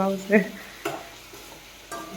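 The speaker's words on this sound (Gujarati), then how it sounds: "ડુંગળી ટમેટાને તળવા દેવાના છે" Soft frying sizzle in a pan, with a few scraping stirs of a spoon and a brief voice near the start.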